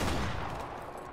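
Video game gunfire from a Barrett rifle crackles in a loud, dense burst at the start, then fades into a lingering rumbling tail.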